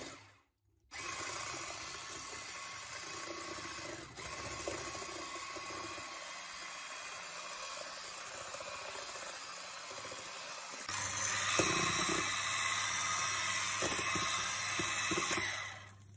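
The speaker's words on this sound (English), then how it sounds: "Whipping all ingredients for 5 minutes." An electric mixer whips egg whites, vanilla and sugar with a steady, close whirring drone that shifts pitch and grows louder partway through, then stops abruptly; no speech.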